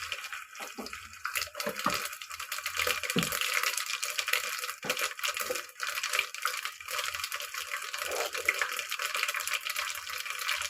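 Mustard seeds crackle and splutter in hot oil, a close, dense run of popping and hissing that keeps going without a break. Bay leaf and green chilli are also in the pan.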